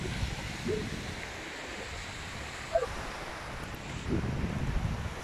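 Wind and sea waves at Playa Tecolote beach make a continuous broadband wash, with surf surging a little louder near the end and wind buffeting the microphone, and no talk.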